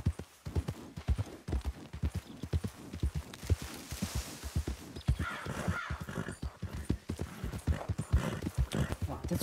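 Horse hooves clip-clop in Red Dead Redemption 2 online roleplay, a loud, steady rhythmic trot with a brief whinny and bird caws in the background.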